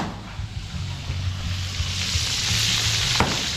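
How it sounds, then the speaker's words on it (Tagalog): Steady sizzling of food frying in hot oil, a continuous crackling hiss with a low background hum, fairly close. "At ito po nagpiprito"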